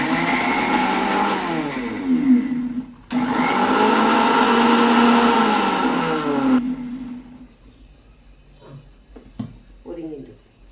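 Mixer grinder crushing grated coconut with cumin, whirring loudly in two bursts with a brief stop between, then falling quiet as a voice talks near the end.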